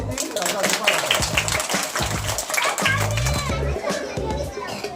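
Schoolchildren clap in a lively crowd at a primary school West Bengal Day celebration, with bursts of applause mixed into steady children's chatter and shouts nearby.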